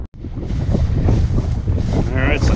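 Strong wind buffets the microphone in a steady, rumbling roar at Buzzard's Roost, Oklahoma, while hiking, with a faint voice briefly audible underneath.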